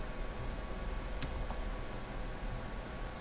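Quiet, sparse keystrokes on a computer keyboard while a Linux mount command is entered, a few light clicks over a steady background hum.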